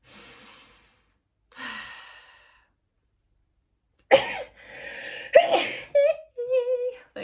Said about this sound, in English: I feel like I might sneeze